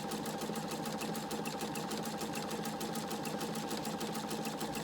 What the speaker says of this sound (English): It's going to sew backwards